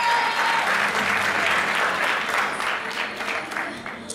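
At a plus-size beauty pageant in Poitou-Charentes, the audience gives a contestant loud, sustained applause that slowly tapers, with a voice breaking in near the end.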